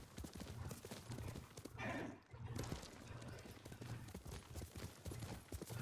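A horse gallops in the video game Ghost of Tsushima, with a steady run of loud, close clip-clop hoofbeats and a whinny partway through, over continuous game background sound.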